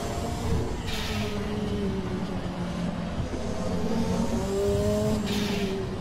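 Race cars in a racing video game drone steadily along with engines holding a rising, sustained pitch, with a couple of brief whooshes of other cars passing close by.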